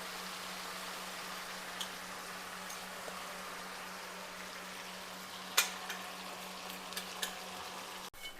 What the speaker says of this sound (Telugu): తాలింపులో గోంగూర పచ్చడి మొత్తం వేసిన తర్వాత సిమ్లో పెట్టేసి కాసేపు ఇలా మిక్స్ చేసుకుంటూనే ఉండాలి